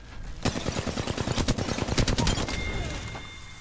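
Automatic weapon fire in Apex Legends on the World's Edge map: rapid bursts of close, loud gunshots rattling in quick succession for a couple of seconds, then tapering off.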